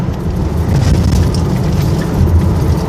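Car cruising along a Thai highway, Mittraphap Road toward Ubol Ratana Dam and Udon, with a steady low engine and road rumble sustained throughout at even loudness.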